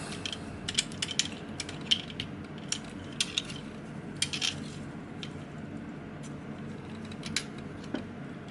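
Tight ratcheting joints on a Warbotron WB01-C Sly Strike toy figure click as they are moved, producing quiet, close, irregular clusters of sharp mechanical clicks with no talking.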